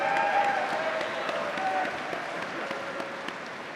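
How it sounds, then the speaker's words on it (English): Applause at a Ring Figure presentation ceremony, a steady dense wash of clapping from a crowd that stays fairly even and slowly eases, with faint voices mixed in. "Round of applause."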